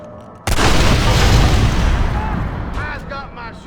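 A heavy gunshot blast erupts in Red Dead Redemption, a sudden loud boom followed by a long ringing decay, with a few faint pinging ricochet-like tones trailing at the end.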